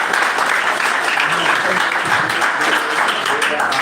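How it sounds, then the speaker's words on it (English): Audience clapping at a government secondary school debate competition, a steady dense patter of many hands filling the whole stretch, with some voices faintly mixed underneath. "Why don't we clap for them?"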